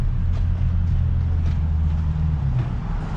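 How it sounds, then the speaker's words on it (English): A car with a V6 engine passes on a Montreal street near a tunnel, a steady loud low rumble of engine and traffic throughout the short stretch with no talk over it. "I hear something with a V6."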